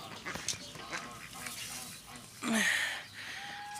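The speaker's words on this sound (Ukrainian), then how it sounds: "Качечки на свободі." Free-ranging farmyard ducks quacking outdoors, a few scattered calls with one louder burst of quacks standing out near the end over faint background noise.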